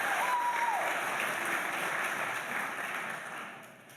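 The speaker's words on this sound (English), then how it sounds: "So applause for Mark." Graduation ceremony audience at a UW-Madison School of Education commencement applauds a faculty member, steady crowd clapping that fades gradually over four seconds.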